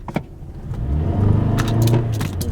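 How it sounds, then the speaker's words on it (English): A 2023 base-model Toyota Sienna minivan floored from the driver's seat, its engine note building into a steady rising drone over road rumble, with a brief jingle of keys near the start. "the motor picks up and you feel the torque instantly, but the engine probably takes a while for it to catch up"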